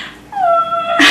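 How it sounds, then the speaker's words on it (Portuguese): A dog whimpers and breaks into a short, rising howl, close and loud, with a single drawn-out tonal cry held for about a second. "O cachorro fica maluco."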